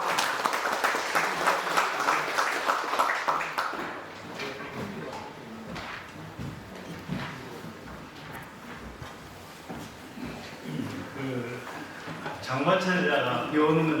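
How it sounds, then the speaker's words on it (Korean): Audience applause at a forest literature symposium, strong clapping at the start that fades to a lighter patter under a speaker's voice, then swells again near the end. "큰 박수로 맞이해 주시기 바랍니다."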